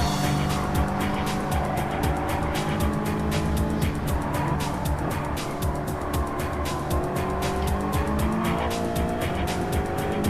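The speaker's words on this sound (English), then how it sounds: "the car gives a little slight oversteer of disapproval, but doesn't do much more than that" A race car in a racing video game holds a loud, continuous engine drone as its tires squeal and skid through corners, with no talking.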